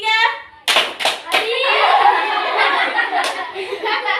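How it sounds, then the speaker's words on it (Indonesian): Children in a classroom clap their hands three times in sharp, loud, close bursts that come right after a voice gives a count, and chatter and a few giggles follow. "Oke, tepuk satu. Tepuk dua. Tepuk tiga."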